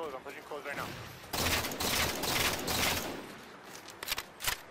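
Rapid gunfire from a 2v2 match on the Skyline map in a competitive game, a dense burst of shots lasting about two seconds followed by a few scattered single shots, with a commentator's voice heard at the start.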